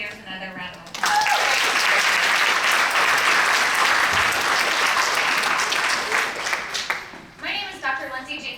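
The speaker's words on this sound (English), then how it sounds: "I think we should give our student leaders another round of applause." Colloquium audience applauding student leaders at the 2019 Harold F. Cottingham Colloquium: loud, sustained clapping from about one second to seven seconds, bracketed by a speaking voice before and after.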